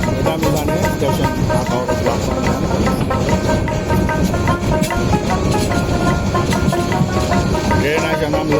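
A Bijoy Express train running, with a dense, steady rumble and rattle of carriages that stays loud and continuous throughout, with a broad wash of noise that may include faint voices.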